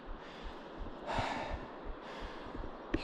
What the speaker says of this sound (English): You can tell I'm breathing pretty heavily.